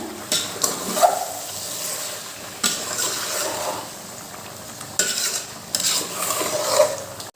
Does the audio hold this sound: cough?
no